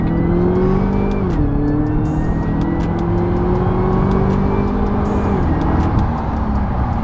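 A Mitsubishi Evo X tuned to around 600 horsepower revs hard on a dyno, its engine note climbing steadily, dipping briefly on a shift, then rising again in one loud, close, continuous pull with no talking.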